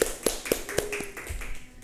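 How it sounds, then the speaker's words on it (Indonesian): Applause in a classroom during a microteaching session, heard as a short run of evenly spaced sharp claps that thin out and fade quickly. "Beri tepuk tangan dulu untuk teman kalian ini."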